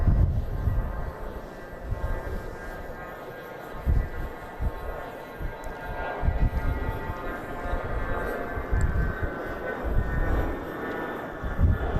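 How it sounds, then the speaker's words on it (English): A Cessna 680A Citation business jet of NetJets takes off at Dallas Love Field, a steady broad engine roar with low rumble filling the whole stretch, heard from a distance outdoors with faint voices here and there. "NetJets 937, a Cessna 680A citation"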